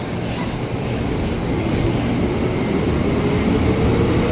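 A KRL commuter train bound for Jakarta Kota departs Juanda station, a loud steady rumble of wheels and motors that builds slightly as it pulls away.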